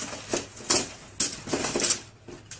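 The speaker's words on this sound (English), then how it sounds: "So, we're going to put the potatoes on our sheet pan." Potatoes land on a sheet pan in a home kitchen in a few light, clattering taps and scrapes. The bursts come close and fairly quiet, with short pauses between them and no talking.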